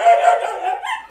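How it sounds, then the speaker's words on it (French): Dogs bark loudly and close, a burst of sharp yips and whimpering barks over about a second, heard alone. "Ça aussi, c'est les chiens"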